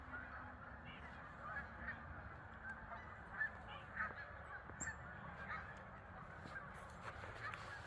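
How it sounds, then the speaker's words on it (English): Faint geese or ducks honk in scattered calls from a distance across a lake beside a hiking trail, heard over a steady outdoor wind and ambient hum. "I just wanted to see the ducks and listen to them again"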